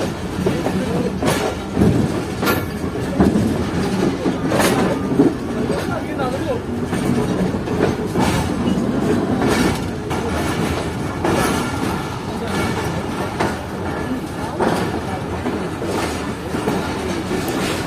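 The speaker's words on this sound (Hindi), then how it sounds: "पूरे 9:15 बजे पहुंच रही है 146 डाउन सक्खर एक्सप्रेस रोड़ी जंक्शन रेलवे स्टेशन के प्लेटफॉर्म नंबर 2 पर" Sukkur Express, train 146 Down, pulling into platform 2 at Rohri Junction railway station at night, with a steady loud rumble and clatter of railcars and repeated sharp clicks of wheels over rail joints, station bustle and voices mixed in.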